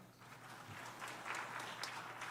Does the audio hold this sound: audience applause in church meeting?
yes